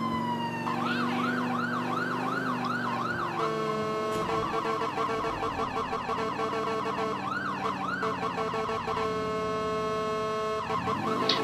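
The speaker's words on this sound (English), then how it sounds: "just to try out the siren" A police car siren in the video game GTA IV wails in rising and falling sweeps, then switches to faster yelping patterns and a steady tone, loud and continuous over a low engine hum.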